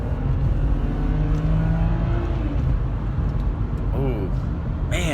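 A BMW driving on the road gives a steady low engine and road rumble throughout, with a voice speaking over it.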